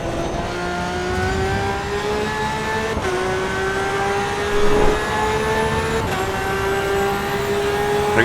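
A racing car's engine revs steadily in a driving simulator, a loud and sustained whine with harmonics that rise and fall. It breaks off briefly at each gear change, and no one talks over it.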